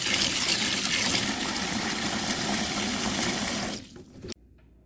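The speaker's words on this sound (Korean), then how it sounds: "자, 물이 끓고 있습니다." Water rushes and roils in a pot as it comes to a boil before lacquer tree shoots are blanched, a loud steady bubbling wash close up that fades and cuts off near the end.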